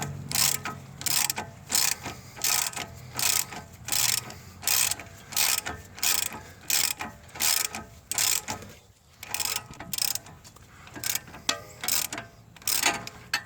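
A 21 mm wrench ratchets a self-locking nut on a transmission mount during a CVT swap on a 2011–2015 Nissan Rogue, giving short, regular bursts of clicking close up with brief pauses between strokes.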